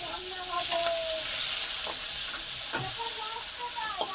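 Onions fry in an oil-filled pan with a loud, steady hiss and sizzle and the occasional scrape of stirring, heard up close throughout.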